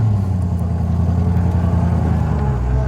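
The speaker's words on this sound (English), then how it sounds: "No synchro mesh on first gear, sounds straight cut, so a delicious whine to it" Daimler SP250 V8 pulling away in straight-cut first gear with no synchromesh, a loud, steady engine drone with a tonal gear whine heard from inside the car, rising slightly in pitch as it accelerates.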